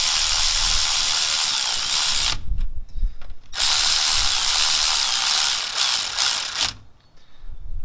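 A ratchet on the cam plate bolts of an LS1 engine, heard as loud, close, continuous rapid clicking in two long runs with a brief pause between them.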